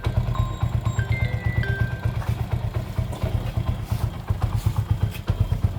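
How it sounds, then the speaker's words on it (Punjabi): A motorcycle engine idles nearby with a steady, rapid low thumping, plus faint clatter and a few brief higher tones in the background. "ਮੋਟਰਸਾਈਕਲ ਅੱਧੀ ਕਿੱਕ ਤੇ ਸਟਾਰਟ ਠੀਕ ਹੈ"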